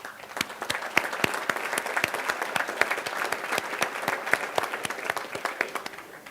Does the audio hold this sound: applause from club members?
yes